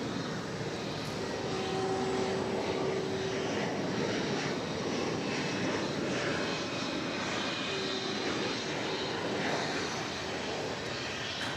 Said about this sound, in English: I see Korean Air Flight 31 coming in from Seoul. It's a 7879.